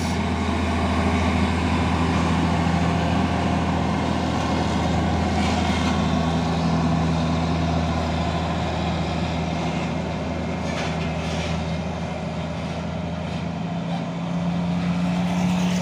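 A Hino 500 trailer truck runs on a dusty road with a steady, loud diesel drone and low engine hum throughout, continuous and unbroken, with no talking.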